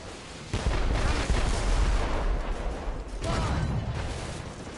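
Ship cannons fire during a naval battle in Assassin's Creed Rogue, giving heavy booming blasts with rumbling tails, with a second volley following a few seconds after the first amid loud battle noise.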